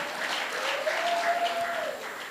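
Audience applause at a Mahesh Navmi celebration, a steady moderate clapping from a crowd lasting a couple of seconds before tapering slightly.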